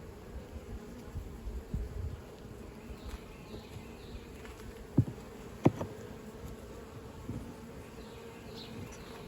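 Honey bees buzzing steadily around a hive box in a beeyard while hives are being split, a constant low drone with a couple of sharp nearby clicks, no talk.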